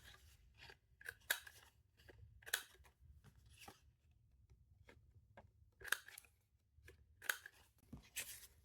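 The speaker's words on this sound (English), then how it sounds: "And then I am going to round the corners." A corner-rounding punch trims the corners of paper journaling cards, giving quiet separate crisp snips and crunches spaced irregularly, with soft paper handling between them.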